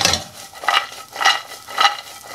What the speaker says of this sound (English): So now I'm just going to coat the walnuts in butter.